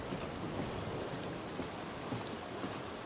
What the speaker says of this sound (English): Get out of the rain a little bit.